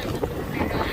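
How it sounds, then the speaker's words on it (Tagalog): Strong wind buffets the microphone at a port in Boracay, a dense, continuous rumbling roar with steady gusting and no break. "Ang lakas ng hangin."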